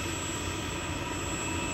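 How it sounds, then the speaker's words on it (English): A helicopter flying over a golf course under construction, there to set footbridges, gives a loud, constant rotor and engine roar that fills the clip alone with no speech. "we have acquired the services of a helicopter to help us set 4 of the 7 bridges inside the golf course"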